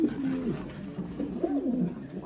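A running pair of Egyptian golden swift pigeons coos in a few soft, rolling, wavering calls that swell and fall, close by against a low background hum.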